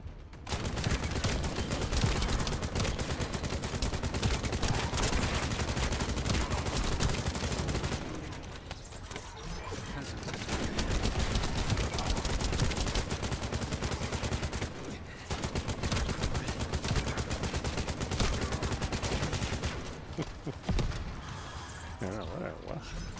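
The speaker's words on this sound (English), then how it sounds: "These guys are shooting my cones." Enemy gunfire aimed at cones placed on the ground in The First Descendant shooter game, sustained rapid volleys that cut out in brief gaps and resume, with someone talking over the shooting.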